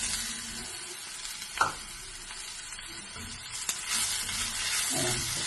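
Spiced beef cooked with chili, turmeric and coriander powder is stirred in a pan, a quiet sizzle with occasional scraping strokes and a couple of sharper knocks.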